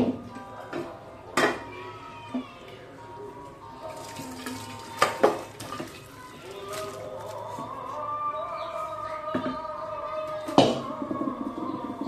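Cooked mutton curry being poured and scraped out of a metal pot, with sharp clanks of a utensil against the pot, scattered at first and then over a steadier scraping, plus a brief animal-like cry in the background.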